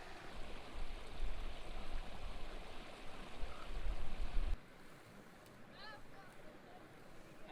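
A river on a coastal hiking path flowing with a dense, rushing wash that is loud and close, then drops abruptly to a softer, steadier babble with faint bird calls above it.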